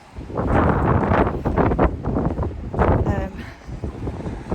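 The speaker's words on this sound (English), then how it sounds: "Still windy today and tomorrow, but the overnight winds were howling." Gusty wind buffets the microphone in loud, uneven rushes at an allotment site, rising and falling, with occasional rustling in the background.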